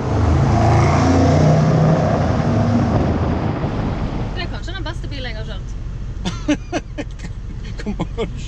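A Range Rover or Jaguar is driven on a warm day, with a loud, steady broadband rush of engine, road and wind noise that eases after a few seconds as voices start talking over the lighter cabin hum.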